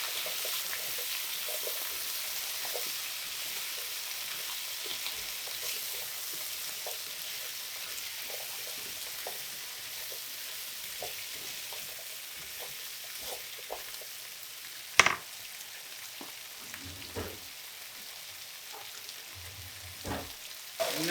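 Onions, carrots and potatoes for Japanese curry sizzle quietly and steadily in a pan, with soft scattered stirring scrapes and taps and a couple of louder clunks near the end.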